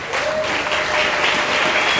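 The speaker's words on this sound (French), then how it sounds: "Applaudissez pour le Seigneur." A church congregation applauds during a sermon, with steady, dense clapping from many hands throughout, loud and close, and no break in the sound.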